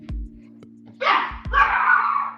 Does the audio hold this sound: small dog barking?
yes